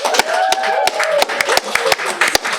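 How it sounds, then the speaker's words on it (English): About a dozen sharp, separate hand claps from a small group cheering young film directors, spaced unevenly and heard close over light talking voices. "Can we get a big round of applause for them real quick?"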